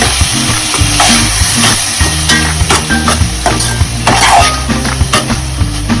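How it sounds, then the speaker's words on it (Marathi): Masala sweet corn being stirred and sautéed in a pan, with a steady sizzle under repeated scraping and clinking of a spoon against the metal, close and loud, no talking. "परतून घेऊया"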